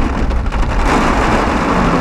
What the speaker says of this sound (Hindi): भाई तगड़ा तूफान आ गया है